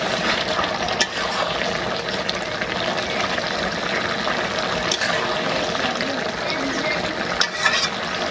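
Fish slid into a curry already cooking in a village kitchen pot, giving a steady bubbling, frying hiss with a few sharp clicks and knocks scattered through it, fairly close and continuous.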